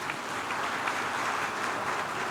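An audience at an anniversary celebration claps in dense, steady applause, a continuous wash of hand claps that fills the hall.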